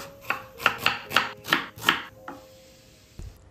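A knife chops onions on a board in a home kitchen, giving six crisp, evenly spaced close chops, then a softer stroke and a final light knock.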